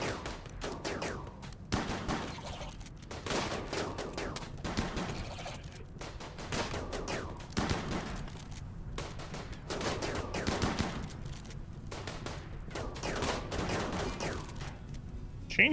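A chain shotgun firing in a video game, with rapid repeated blasts in clustered volleys, punchy and fairly close, recurring throughout amid other combat noise.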